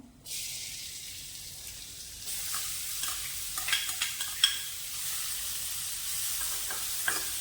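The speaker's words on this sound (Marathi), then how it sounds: "आपण कढईमध्ये थोडंसं तेल टाकून घेणार आहोत अगोदर आणि आपण थोड्या भाज्या परतून घेणार आहे" Vegetables, starting with onions, are stir-fried in a little oil in a kadhai for crispy veg cutlets. A quiet hiss swells into a loud, steady sizzle after a couple of seconds, broken by several scraping stirs of the spoon.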